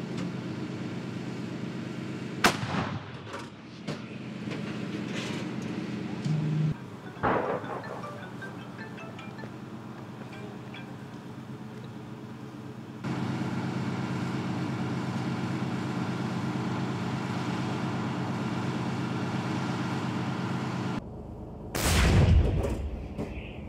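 Ukrainian howitzers fire artillery near Avdiivka: a few sharp, heavy booms ring out, the last one loudest, over a constant rumbling engine-like background.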